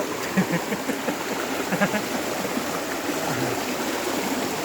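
A stream flows steadily beside an outdoor meal in rural Isan countryside, a continuous moderate rush of water with faint scattered background sounds.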